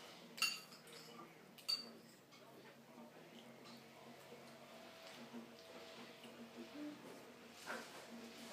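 A child eats breakfast with a spoon, producing a few light clinks of cutlery against a dish, faint and spaced apart, with soft household background and an adult speaking.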